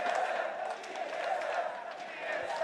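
A crowd roars steadily at a League of Legends esports match, a dense, moderately loud wash of cheering and chatter from a large arena audience.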